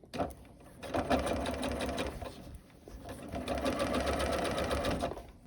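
A sewing machine stitches a shirred elastic summer dress, running in two steady bursts of rapid mechanical clatter with a brief slowdown between them, close and fairly loud.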